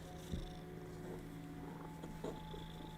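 A relaxed cat purrs softly and steadily, close by but quiet, with a few small thumps and rustles around it.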